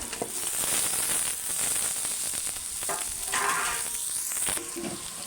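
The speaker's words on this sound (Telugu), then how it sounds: "ఉల్లిపాయ కొంచెం మంచిగా ఫ్రై అయిన తర్వాత కాకరకాయ ముక్కలు వేసుకుందాం" Spiny gourd pieces and onions fry in hot oil with a loud, continuous crackling sizzle and occasional stirring scrapes, with no voices.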